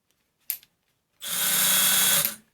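A Milwaukee M12 Fuel 1/2 by 18 inch bandfile, model 2482-20, gives a brief click, then spins up into a loud, steady, high-pitched whir for about a second before winding down.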